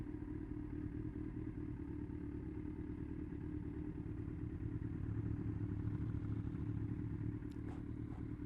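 A Kawasaki Z100 motorcycle rides along a two-way public road circuit near Scarborough. Its engine gives a steady, rumbling mid-range drone with constant wind noise, and a few faint clicks come near the end as it slows to a stop.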